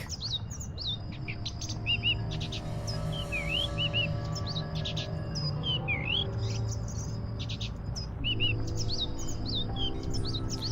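Cheep Cheep, a small critter from the game The Book of Unwritten Tales, chirps in repeated quick tweeting bursts over a low steady hum of background music and ambience.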